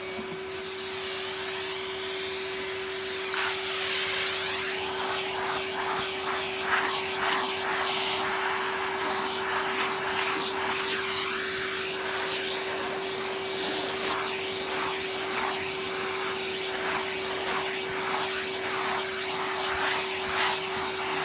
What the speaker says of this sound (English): there's a lot of crud in there, so I'm going to vacuum it out first.